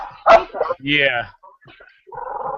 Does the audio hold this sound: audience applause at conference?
no